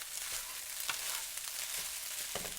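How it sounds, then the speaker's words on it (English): Fried rice sizzles and crackles steadily in a hot pan, a bright hiss with a few soft scraping stirs, no voices. "That's the sizzling I like to hear."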